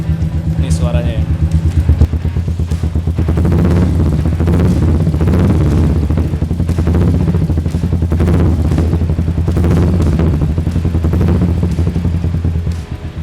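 A Royal Enfield Meteor 350 motorcycle engine thumps steadily at idle, close and loud, with a low rhythmic pulse and occasional clatter throughout.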